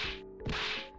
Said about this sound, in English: Min hits her back, harder.